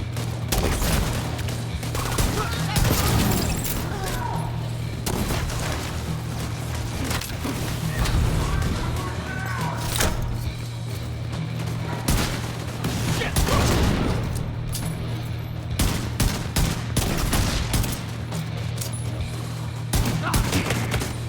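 Sustained chaotic gunfire in The Division 2, with overlapping bursts and shots from several weapons at varying distances, plus a steady low hum beneath throughout.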